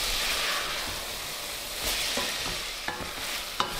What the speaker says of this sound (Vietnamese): tiếp tục mình xào cho cà chua mềm